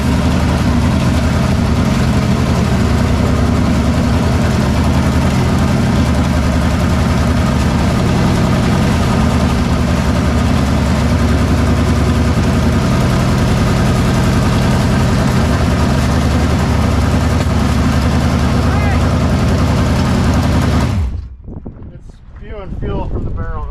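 Wingless sprint car engine roaring loud and steady close to the camera mount, a constant heavy low drone with wind buffeting, cutting off near the end and leaving quiet rustling.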